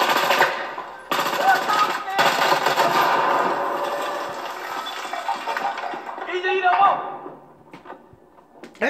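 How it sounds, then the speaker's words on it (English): Suppressed gunfire in a shooter video game: muffled, rapid bursts of automatic fire running for several seconds, with voices talking over the shooting. "Some suppressed fire on these people. Put some suppressed fire."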